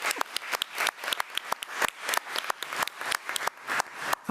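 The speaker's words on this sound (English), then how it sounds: "So let's give them both a round of applause." A small group applauds at a policy committee meeting honoring students, sparse distinct claps close by in an uneven rhythm that thins out near the end.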